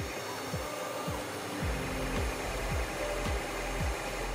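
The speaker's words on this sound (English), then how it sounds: "Operation number one is to bore my small pinholes using a 16th inch end mill." A CNC mill with a one-sixteenth-inch end mill bores small pinholes in Richlite knife-scale stock, giving a steady high whine and hiss with a regular repeating low thump as the spindle plunges, close and continuous.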